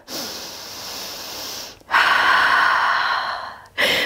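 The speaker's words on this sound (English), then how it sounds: "Keep breathing here." Deep breathing during a yoga session, a loud close inhale followed by a long, rushing exhale and the start of another breath, with no talking.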